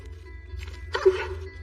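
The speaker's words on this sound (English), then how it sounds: "I see you brought out your guard dog to threaten me" A guard dog on a neighbour's property gives a couple of short, close barks with a yip, over a low background hum.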